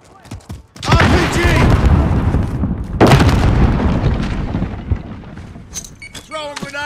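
Heavy blasts and gunfire in Call of Duty: Modern Warfare, a loud rocket explosion followed by a second big boom about two seconds later amid rattling shots, with voices shouting over the battle.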